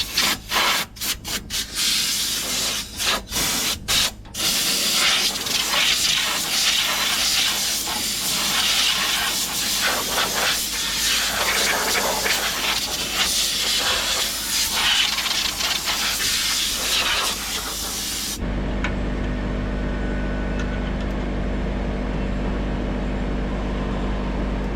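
Compressed air blasts through the radiator of a 1970 Jeep CJ5, a loud close hiss that follows a few sharp clicks and runs steadily before cutting off abruptly, leaving a low hum.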